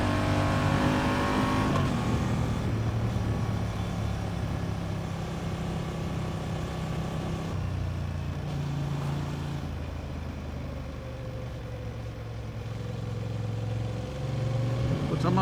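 Engine and exhaust note of a 2023 Honda Transalp XL750 motorcycle, recorded close at the rear of the bike while riding, with a steady throttle that rises and falls over the run and no talking.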